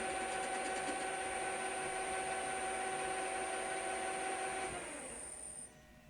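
A Schaublin SV-51 lathe running for a light first cutting pass on a rusty axle, a steady close mechanical whine with a high tone that winds down and stops near the end.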